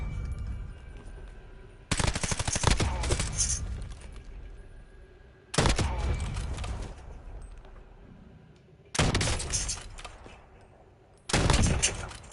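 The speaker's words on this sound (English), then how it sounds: "Let's try these guns out again really quick." Automatic gunfire at the firing range in Black Ops, a video game, comes in four loud sustained bursts of a second or more each, separated by quieter gaps.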